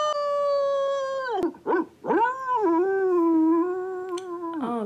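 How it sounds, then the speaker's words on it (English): A dog howls in long drawn-out wavering tones, broken by a couple of short yelps, loud and close with no speech. "Oh, more barking."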